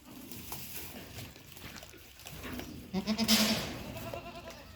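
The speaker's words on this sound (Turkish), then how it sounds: "Bunlar sahanen ile maltız keçisinin karışımından olmuştur." Saanen and Maltese cross goats bleat on a farm, with a loud, close call near the middle rising above quieter bleats and background noise.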